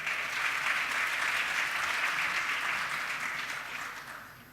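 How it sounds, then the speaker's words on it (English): A steady wash of audience applause greets Team Be Kind at the ArabNet Beirut 2018 Creative Combat Competition, dense and even throughout before tapering slightly near the end. "Big round of applause for Team Be Kind"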